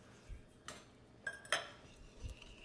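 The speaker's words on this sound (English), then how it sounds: "next we're going to whisk in a half of a cup of granulated sugar" A whisk stirs granulated sugar into melted chocolate in a bowl for a chocoflan batter. It makes a few sparse, quiet metallic clinks against the bowl, spread irregularly through an otherwise hushed kitchen.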